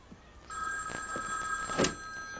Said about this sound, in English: Oh, I think that's the phone.